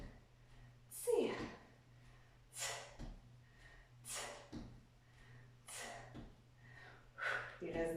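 Deep, heavy breaths during an interval cardio and muscle workout, five or six loud breathy bursts spaced about every second and a half over a steady low hum.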